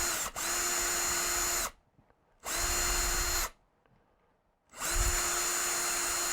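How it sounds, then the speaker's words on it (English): A power drill removing pieces from a Master Chief helmet build whines loudly in three sustained bursts, stopping and starting with short quiet gaps between, close up. "I'm going to speed this up and use the drill"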